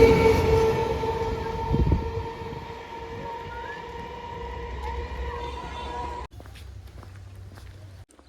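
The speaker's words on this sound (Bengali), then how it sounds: "এদিকে ট্রেন ঢুকছে" A train rolls into a station on a village line toward Sealdah with a sustained metallic hum and whine over heavy rumbling that stays loud and near, then cuts abruptly to a quieter, steadier drone near the end.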